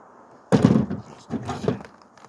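A Sig MCX rifle fitted with a bird cage muzzle device fires, giving one loud, sharp report that rolls into a booming tail, followed by a softer second burst of echo. No voices are heard.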